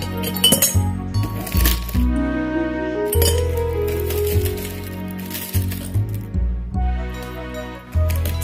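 Ice cubes clink and rattle against a glass in several close, bright bursts while a watermelon and lime iced drink is prepared, with no talk.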